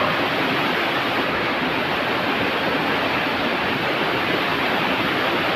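A waterfall near Lobo Cave in Jiabong, Samar, Philippines pours in a steady, loud, unbroken roar of rushing water, dense and constant from start to finish with no voices.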